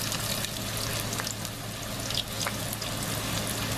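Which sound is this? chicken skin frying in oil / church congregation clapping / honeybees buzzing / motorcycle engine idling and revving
chicken skin frying in oil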